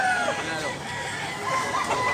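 A rooster offered for sale at a market in South Cebu, clucking and crowing nearby amid continuous background noise and chatter.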